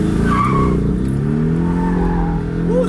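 A Porsche Cayman S with PDK launches in Sport Plus mode with tires spinning: a loud, close engine roar rising in pitch over a continuous tire squeal, with no talk.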